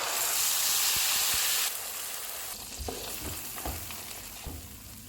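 Cinnamon stick, green cardamom and cloves frying in hot oil for aloo kofta curry, a loud bright sizzle that drops to a quieter crackle, then soft spoon knocks and stirring scrapes.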